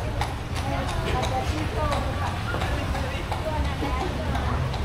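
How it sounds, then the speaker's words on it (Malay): Horse hooves clip-clop in a steady rhythm on a street in Padang, Indonesia, over a constant busy background of voices and traffic noise. "Kuda tu."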